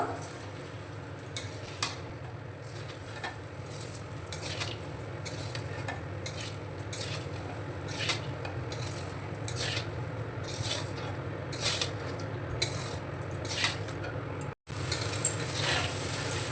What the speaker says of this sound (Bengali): এখন আমি ভালো করে মিশিয়ে নেবো